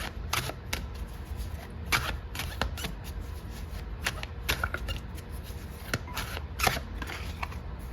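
Tarot cards are shuffled close up, a continuous papery riffling with sharp irregular snaps and flicks throughout.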